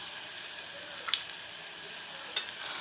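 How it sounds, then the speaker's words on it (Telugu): Marinated chicken sizzling in a pan of browned onions for a chicken curry with homemade masala, a steady hissing fry with a few small pops and crackles. "ఇప్పుడు ఇందులో మనం కలిపి పెట్టుకున్న చికెన్ అయితే వేసుకోవాలి"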